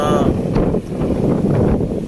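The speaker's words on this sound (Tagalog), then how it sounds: "Lakas ng hangin, mataas ang dagat" Strong wind at Dapdap pier in Allen, Northern Samar, with a high sea, buffets the microphone with a loud, rumbling roar that continues without a break.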